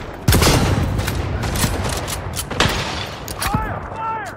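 Dense gunfire in the video game Cyberpunk 2077, a rapid fusillade of loud, close shots and booms going on throughout with mechanical clatter and brief shouting voices over it.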